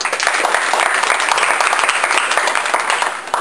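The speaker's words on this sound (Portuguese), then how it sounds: "Salve de palmas." A crowd gives a steady, loud round of applause at a bamboo (taquara) demonstration, dense clapping sustained for a few seconds without a break.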